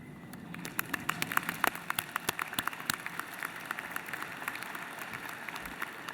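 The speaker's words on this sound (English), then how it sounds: "give them a round of applause" A convocation crowd applauds graduates' guests, a steady patter of many hands clapping at moderate distance, fairly faint and even, slowly thinning out toward the end.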